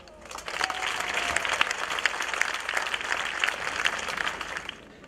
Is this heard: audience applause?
yes